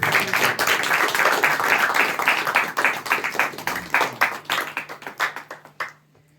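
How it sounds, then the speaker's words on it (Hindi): A church congregation at a Hindi Christmas sermon claps together in celebration, a dense burst of many hands that thins into scattered, slower claps before stopping. "ताली बजाकर सेलिब्रेट"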